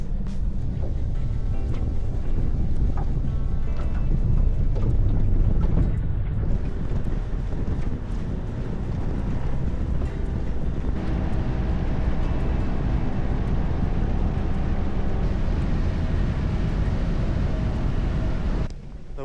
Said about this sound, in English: The wind is very strong now.